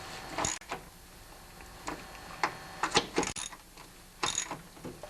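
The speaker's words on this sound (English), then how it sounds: "Now make sure you tighten these up really tight." A wrench ratchets bolts tight on a Murray Noma Craftsman snowblower during a friction disc replacement, with irregular bursts of clicking and mechanical clatter close by in a quiet workshop.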